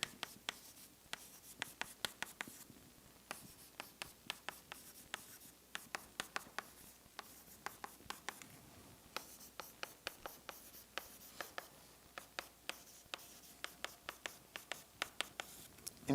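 Chalk or marker writing on a board during a partial differential equations lecture, a quiet run of crisp ticking taps and short scratches in irregular bursts, with no talking over it.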